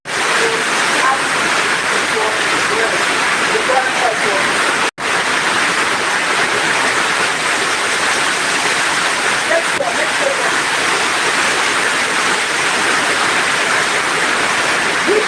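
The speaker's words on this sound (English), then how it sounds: "There's serious rain here in my area, like very serious." Heavy rain pouring down in a steady, dense hiss that stays loud and unbroken throughout, with one brief dropout partway through and no voices.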